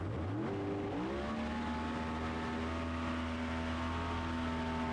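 A Pro Mod drag race car accelerates hard down a drag strip at the Route 66 Nationals, its engine note climbing through gear changes and then holding a high, steady drone. The engine is loud and continuous, with no voices.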